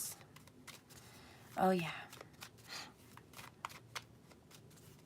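Tarot cards being shuffled in quick papery riffles and taps through most of the stretch, soft and close, with a brief spoken exclamation near the start.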